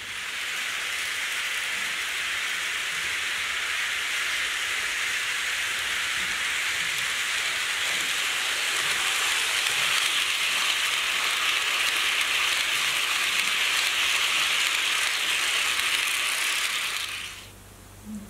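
A model train rolls past a camera mounted right beside the track, producing a loud, steady, dense rattling clatter that holds for about seventeen seconds and then cuts off abruptly as it clears.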